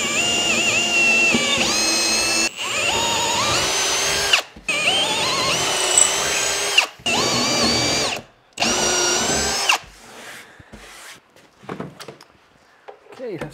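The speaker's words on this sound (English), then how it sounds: "first thing to do is just get some holes drilled for the jigsaw." A power drill boring holes into a router table top for a jigsaw cut: five loud whining bursts about two seconds each with short pauses, followed by lighter clattering handling sounds.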